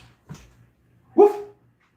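A person imitates a dog's bark with a short, breathy vocal woof, preceded by a faint softer sound, close and fairly loud in a quiet room.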